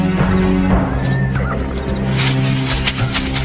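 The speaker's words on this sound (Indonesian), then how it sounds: "Kuda Sukowati, ayo!" A horse whinnies in a dramatic film scene, a brief high cry that breaks over a busy, noisy background of music and action sounds.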